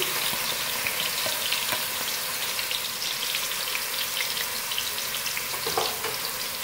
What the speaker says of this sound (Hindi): ऑयल गर्म हो चुका हुआ है सबसे पहले इसमें प्याज शामिल करेंगे